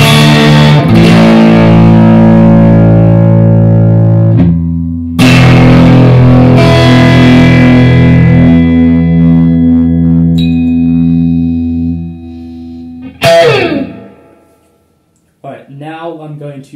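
Electric guitar through a tube amp's crunch channel with preamp distortion at half gain: sustained strummed chords ring out loud and gritty, with pauses between, a few higher picked notes, then a fade and a brief final rattle.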